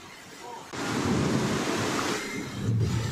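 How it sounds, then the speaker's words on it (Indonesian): A river swollen by heavy rain overflows near homes, its floodwater rushing in a loud, continuous roar without a break. "Derasnya aliran air yang seperti Anda bisa lihat pemirsa di layar kaca"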